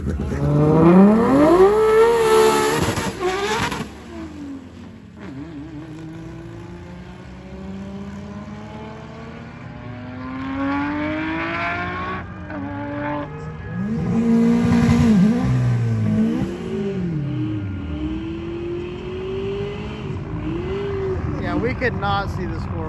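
Nissan GTR and other drag racing cars accelerating hard down the strip, engines rising and falling in pitch through gear changes in two loud passes, with people talking over the noise.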